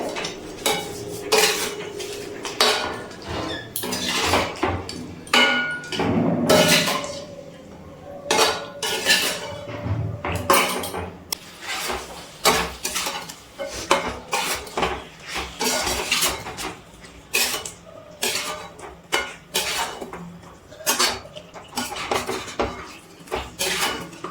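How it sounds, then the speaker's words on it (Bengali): Chicken with spices is stir-fried in a kadai over a medium flame, a metal spatula scraping and clanking against the pan in a steady, busy rhythm under faint sizzling, with no voices. "গ্যাসের ফ্লেমটা মিডিয়ামে রেখে আমি মাংসটা কষিয়ে নিচ্ছি"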